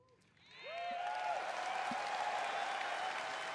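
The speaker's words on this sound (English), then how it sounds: "we do Applause now." Audience applause at BlizzCon swells after half a second into steady, loud clapping and cheering from a large crowd, with a brief voice at the start.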